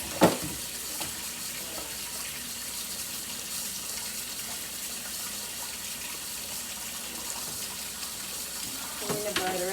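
Running tap water splashes steadily into a kitchen sink as spoons are washed and lathered, a constant close rush with small clinks and knocks near the start and end.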